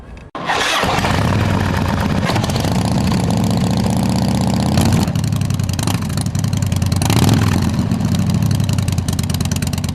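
A motorcycle engine fires up and settles into a loud, close, throbbing idle, with the revs rising and falling several times above the steady beat and no talking.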